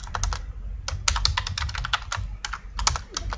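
Rapid uneven typing on a computer keyboard, keys clattering in dense irregular bursts close by, with a low rumble underneath and no voices.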